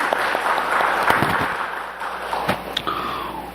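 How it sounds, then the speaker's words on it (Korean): A church congregation at a Korean Sunday service claps together in a steady, dense round of applause that fills the room, with a few sharper claps near the end. "영광의 박수를 주님께 돌리십시다."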